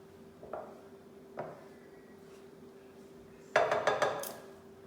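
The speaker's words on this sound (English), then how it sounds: "It's very hard to stir." A utensil stirs thick cornstarch oobleck in a bowl: two isolated soft knocks, then a closer run of rapid scraping and clinking strokes against the container, with a low steady hum underneath.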